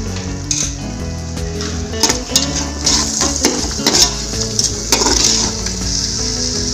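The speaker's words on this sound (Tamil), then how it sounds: "சேர்த்து நல்லா வதக்கிக்குவோம்." Curd and spice masala, with chilli powder and coriander powder, sizzling and being stirred in an oily pan for Dindigul Thalappakatti-style mutton biryani; a steady close frying hiss runs throughout, with scraping stirs and occasional clinks of the utensil.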